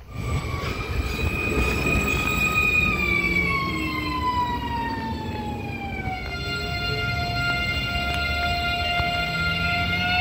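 A train at Mangaļi station in Riga's northern district, on the Riga–Salkrasti line, rumbles past loudly and steadily with high, sustained wheel squeal that slowly falls in pitch, close by with no voices.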